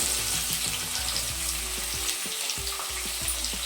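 Onions hit hot oil for bendekai palya and fry with a loud, dense, continuous sizzle, with a brief dip partway through and no speech over it.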